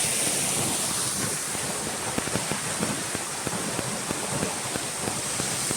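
A waterfall near Ranchi, Jonha or Hundru Falls, gives a constant broadband roar of falling water, with gusts of wind buffeting the microphone throughout and no talk.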